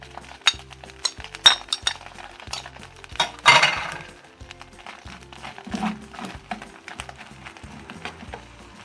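Rice stirred in a pot while butter melts, a utensil scraping and clinking against the pot in uneven strokes, close and fairly loud, with one louder rattling scrape partway through.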